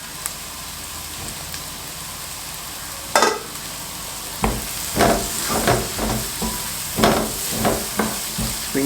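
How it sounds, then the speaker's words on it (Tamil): Vegetables and spring onion being stir-fried in a pan for egg fried rice: a steady sizzle with a run of loud, irregular spatula scrapes and clacks against the pan in the second half. "ஸ்ப்ரிங் ஆனியனை கூட சேர்த்து குக் பண்ணுறோம்."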